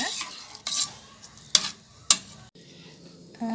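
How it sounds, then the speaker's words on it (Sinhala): Chicken boiling in salted water in a pot is stirred and turned with a spoon, giving soft scraping and a few sharp metal clinks over a low bubbling simmer, close and alone without voices. "මේ ආකාරයට හොඳින් කලවම් කරගෙන දෙපැත්ත හරවමින් තම්බා ගන්න"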